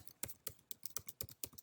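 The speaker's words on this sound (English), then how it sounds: "I'm just typing randomly and without hitting enter" Rapid, irregular clicking of keys on a computer keyboard, quiet and close, with no voices, as someone types at random without pausing.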